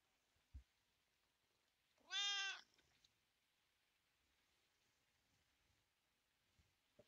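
A single clear cat meow in the horror video game Phasmophobia rises from a quiet background, with a couple of faint knocks before and after.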